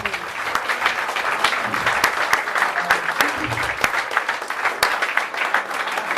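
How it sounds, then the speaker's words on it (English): An audience gives a round of applause for hard-working committee members at a seniors' presentation, with scattered, close individual claps over a steady bed of clapping that carries on throughout. "So we can give them a round of applause for their hard work."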